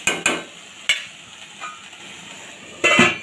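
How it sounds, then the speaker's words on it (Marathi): Cluster beans with salt and turmeric are stirred and fried in a pan, giving a soft sizzle broken by several sharp scraping and clinking strokes of a spoon against the pan, the loudest near the end, with no speech. "त्यात आपण मीठ आणि हळद घालणार आहोत आणि अशी फ्राय करून घ्यायची"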